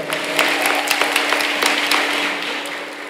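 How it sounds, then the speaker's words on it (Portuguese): Congregation at a church sermon applauding together, a dense stretch of clapping heard alone at a steady level before it tapers off slightly at the end, with a faint steady hum running underneath. "uma salva de palmas para Jesus"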